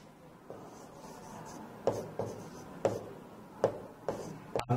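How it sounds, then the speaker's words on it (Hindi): Marker strokes squeak and scratch across a classroom whiteboard during a reasoning lesson, a series of short scrapes with sharp onsets roughly once a second, close and fairly quiet with no talking. "अब लिखते हैं।"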